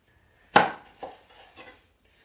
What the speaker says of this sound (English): Even when you do have a sharp knife, it's hard to cut through the outside of the skin.